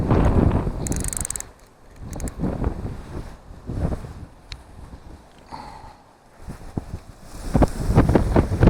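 Strong, blustery wind at Sharpley Springs fishing lake buffeting the microphone in loud, gusty roars that rise and fall, with brief calmer lulls between gusts.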